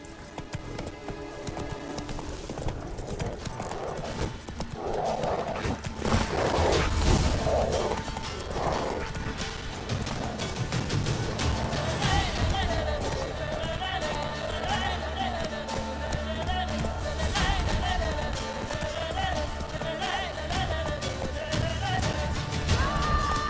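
Roach the horse gallops in The Witcher, hooves clip-clopping in a running rhythm through mist, mixed with ambient game sound and brief spoken lines and effects.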